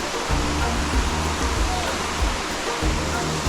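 White River flowing near Blue Hole, a steady broad rush of moving water, loud and continuous, with faint low rumbling underneath.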